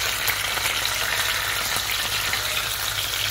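Fish frying in a hot pan, a dense continuous sizzle with crackling spatter, steady and close with no voices.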